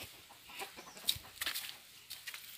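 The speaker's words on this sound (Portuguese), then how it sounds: "Galinha, tá fazendo o que no meu esquento?" A backyard chicken clucks in short, scattered bursts close by, a few sharp calls among soft rustling, with no talking.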